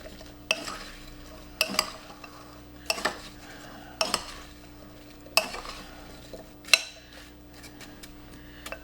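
Cut apples tossed with lemon juice in a bowl, giving a steady series of about six sharp clattering strokes roughly a second apart, close and fairly quiet, with no talking.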